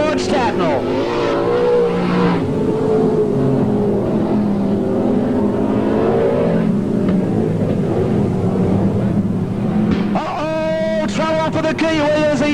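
Speedway race cars circle the track at Parramatta City Raceway, engines droning loud and continuous with rising revs near the end, under steady commentary from an announcer.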